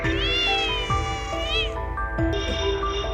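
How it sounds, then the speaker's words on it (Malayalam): A cat meows in long, drawn-out wavering cries, loud and close, in a Malayalam comedy scene about fried fish gone missing; other tonal sounds follow the cries with no clear talk. "നീ പൂച്ച എങ്ങാനും?"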